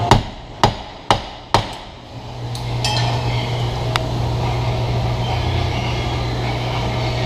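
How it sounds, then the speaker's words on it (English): Four sharp metallic hammer blows in quick succession, then a few lighter clinks over a steady low mechanical hum, as a rear wheel bearing is hammered out of a 2004 Cadillac CTS. "we're going to help the ease of removal with a hammer"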